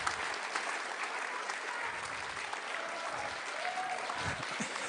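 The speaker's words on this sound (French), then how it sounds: "j'entends des applaudissements simplement en lisant le sommaire" An audience at a book reading at the Bibliothèques Idéales fills the hall with steady, dense applause, heard from some distance and rather soft, without a break for about five seconds.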